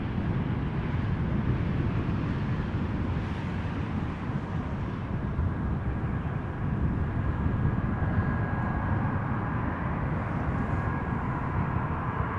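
Boeing 777 jet arriving at Amsterdam Schiphol from Doha, its steady broadband engine roar filling the whole stretch as a continuous loud rumble with wind buffeting, no talking.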